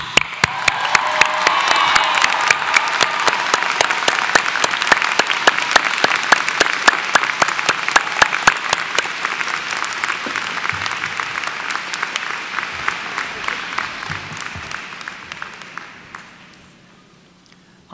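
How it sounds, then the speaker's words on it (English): Sustained audience applause at a college graduation ceremony, a large crowd clapping steadily with loud individual claps standing out, slowly thinning and fading out near the end. "And now, congratulations, a grand round of applause."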